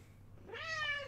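A cat's single drawn-out meow, clear and close, rising over a low steady hum with no talk.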